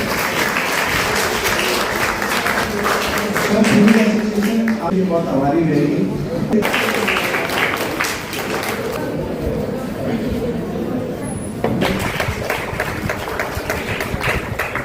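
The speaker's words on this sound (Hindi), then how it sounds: "बहुत जोरदार ताली।" Audience applause at the closing ceremony of a district chess championship in Sirsa, dense clapping filling the room in sustained bursts, with a voice speaking over a pause midway.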